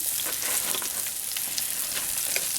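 Onion sizzles steadily in hot oil, a loud, even crackling fry with small pops and no break throughout.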